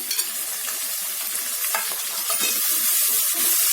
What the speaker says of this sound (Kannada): ಈರುಳ್ಳಿ ಸ್ವಲ್ಪ ಫ್ರೈ ಆಗಲಿ